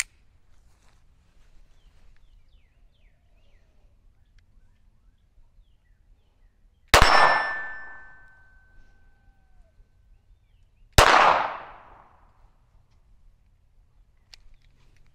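A SIG P320 Spectre Comp pistol, still being broken in and prone to jamming, fires two sharp, loud outdoor shots about four seconds apart, each cracking out and ringing briefly into quiet surroundings.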